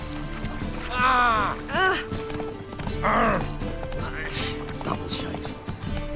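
Horse hooves clip-clopping at a gallop in The Witcher 3, rhythmic thuds running throughout beneath game music, with short bursts of spoken dialogue over them.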